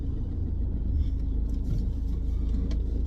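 An Alfa 159 engine labours up a steep hill, giving a steady loud rumble with road and wind noise and a few faint clicks, with no talk.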